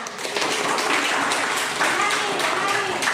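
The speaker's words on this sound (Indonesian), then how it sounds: "Tepuk tangan" A classroom group claps during a chemistry lesson on coordinate covalent bonds, a dense, steady wash of clapping mixed with chatter and voices throughout, moderately loud and roomy.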